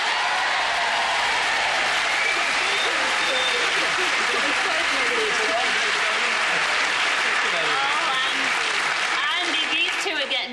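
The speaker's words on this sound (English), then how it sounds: "You got a bigger cheer than we did." A television game show studio audience cheers and applauds in a loud, continuous wash of clapping and whoops that fills the room, with voices mixed in.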